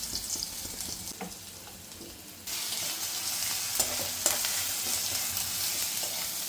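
Dried red chillies sizzling in hot oil with garlic tipped in, a steady close frying hiss that jumps louder partway through as the garlic hits the pan, with light stirring scrapes.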